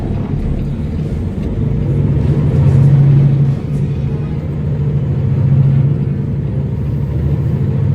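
Heavy haul semi truck grossing 105,000 lbs pulling out of the yard, a loud low diesel rumble that swells twice as the engine works, steady and close throughout.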